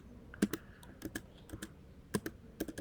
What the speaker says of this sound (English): if I want to go back, I just press backspace or delete if you're on Mac